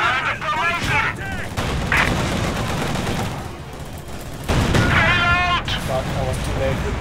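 Gunfire and artillery rumble in Company of Heroes 2 battle fighting, continuous and heavy with bursts, while voices shout over the din.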